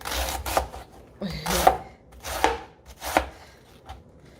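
A knife slices through cabbage on a cutting board, giving four or five crisp chopping strokes spaced roughly a second apart, close and fairly loud with no talking.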